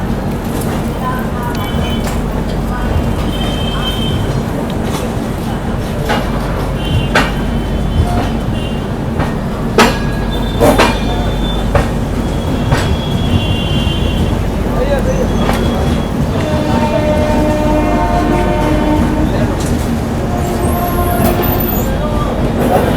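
The 12190 Mahakaushal Express departs Hazrat Nizamuddin in Delhi, a steady loud rumble of the moving train heard from inside a coach, with occasional clanks and rattles and people talking in the background.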